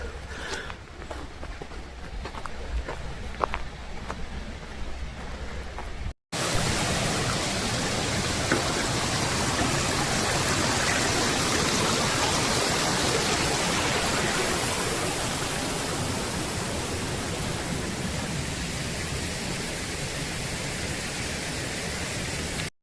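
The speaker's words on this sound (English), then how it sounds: "we're at the inlet, the sluice that leads to the Third Coppice Wheel Dam." River water rushes through a sluice inlet leading to the Third Coppice Wheel dam in the Rivelin Valley, a loud, steady roar of flow heard nearby and unbroken, with no talk.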